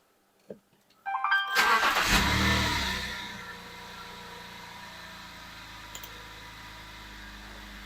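A BMW M54B30 inline-six, slightly warmed up, cranks and starts with a loud flare of revs, then settles into a smooth steady idle, close by and alone.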